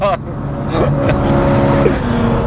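A BMW E92 M3 engine revs loudly and steadily up close, a deep sustained roar with a brief shift in pitch, with a voice briefly over it.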